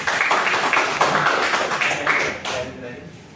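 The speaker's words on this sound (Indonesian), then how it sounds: "Beri tepuk tangan untuk dia dong." A classroom of students claps in quick, rhythmic bursts for a few seconds, fading out as a voice talks.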